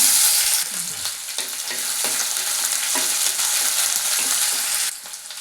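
Onions added to hot oil with dried red chillies and lentils hiss in a pan, a loud steady sizzle with occasional stirring taps, close by and without speech, dropping off sharply near the end.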